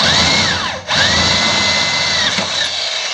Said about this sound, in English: now I'm going to drill my 3/8 inch hole